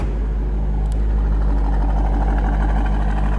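A 2000 Chevrolet Corvette Coupe sits idling, its engine giving a loud, steady low rumble heard up close without a break and with no voices.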